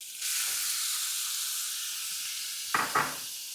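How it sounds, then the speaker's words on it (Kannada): Finely chopped onions, about a cup, dropped into hot oil for an egg and drumstick curry, giving a steady loud sizzle that holds throughout, with a couple of brief stirring scrapes near the end. "ಎಣ್ಣೆ ಕಾದ್ಮೇಲೆ ನೋಡಿ ನಾನಿಲ್ಲಿ 1 ಕಪ್ನಷ್ಟು ಸಣ್ಣದಾಗಿ ಕಟ್ ಮಾಡಿರೋಂತಹ ಈರುಳ್ಳಿ ಹಾಕ್ಕೊಳ್ತಾ ಇದ್ದೀನಿ"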